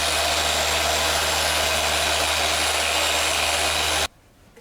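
A machine polisher with cutting cream working scratches out of car paint, a steady loud whirring drone that cuts off abruptly near the end.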